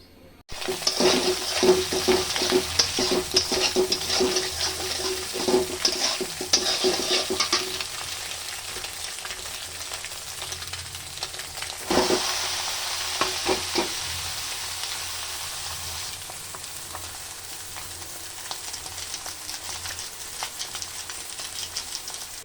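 Chow mein noodles stir-fried in a pan: loud sizzling with rapid scraping and tossing strokes early on, then a fading hiss with an occasional stir, no speech.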